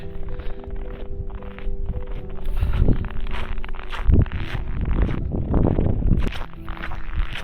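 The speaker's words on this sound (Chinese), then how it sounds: "在这里呢，能听到的声音就是我脚跟这个雪摩擦的声音，" Boots crunch steadily on snow in a windy, remote outdoor spot with no traffic, each step a soft crunch over a constant low whoosh of wind.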